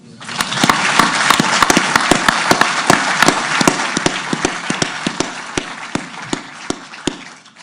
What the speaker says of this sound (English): I'd just like to have a round of applause right there.